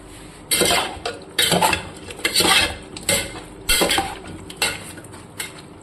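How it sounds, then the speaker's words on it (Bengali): Chicken pieces and fried potatoes are stirred in a pan, with several loud bursts of metal scraping and clattering coming in irregular strokes and short pauses between them. No one speaks. "ভালো করে ঘেটে নিচ্ছি।"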